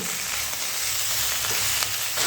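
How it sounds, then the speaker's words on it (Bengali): Steady, close sizzling of tomato, coriander leaves and onion greens frying in a hot pan, continuous without pauses and no voices. "এই টমেটো আর ধনেপাতা পেঁয়াজের কলির সঙ্গে আবারও খুব ভালো করে ভেজে নিতে হবে।"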